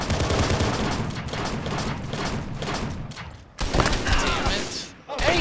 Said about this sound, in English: Hey, why am I being shot?